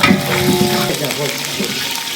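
Curry leaves, small shallots and dried red chillies hit hot oil in an outdoor pot for a goat feast, crackling and sizzling loudly at first and then settling into a steadier fry as a voice speaks.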